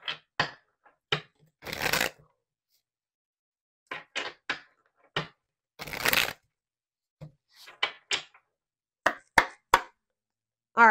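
Someone shuffles a deck of cards close by. There are two longer riffling bursts, with sharp taps and short card flicks scattered between them, and no talking over it.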